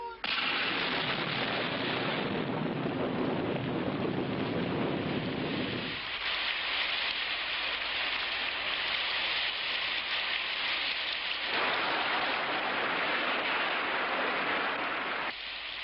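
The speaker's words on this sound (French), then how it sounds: "ne me dites pas qu'il va pleuvoir" Steady, dense patter of rain falling, loud and continuous, its texture shifting in places as it beats on different surfaces nearby.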